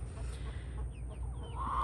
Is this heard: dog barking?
no